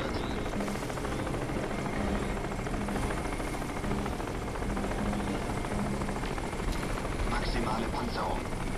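A helicopter in the shooter game Crysis gives off a dense, continuous rotor roar that fills the whole stretch, with a voice talking over the game sound.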